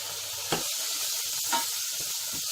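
Tomatoes sauté in a pan for fish kulambu with a steady close hiss and sizzle. Two or three soft stirring scrapes punctuate it.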